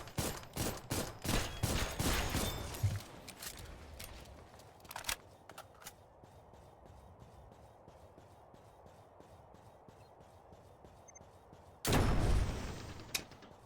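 Video game gunfire: a rapid volley of loud shots at the start, a lone burst midway, then quiet before another loud burst near the end.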